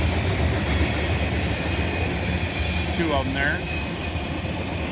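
A freight train with gondola and flat cars rolls past in Oak Harbor, Ohio, a steady, dense rumble filling the whole stretch, with someone speaking briefly over it.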